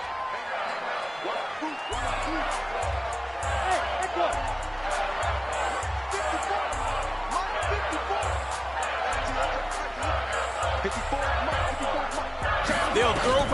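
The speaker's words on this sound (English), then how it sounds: "Sounds like this crowd is ready for some tug of war." A stadium crowd in a PS4 football video game roars steadily with cheers and whoops, a thick wash of noise beneath a thumping beat and commentary voices talking throughout.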